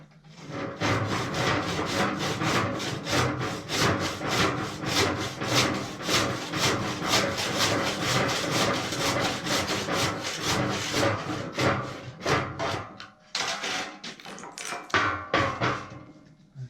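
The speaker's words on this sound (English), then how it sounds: "we will cut the old handle off the head of the sledgehammer" A hand saw rasps back and forth through an old wooden sledgehammer handle in quick, steady strokes, close and loud, pausing briefly before a few final strokes.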